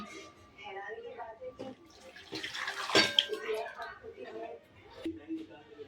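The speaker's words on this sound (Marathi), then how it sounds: "एक ग्लास मी पाणी टाकत आहे" A glass of water is poured into a hot pan of fried spices and matki sprouts for rassa bhaji, giving a brief splashing gush and sizzle in the middle while a voice talks over it.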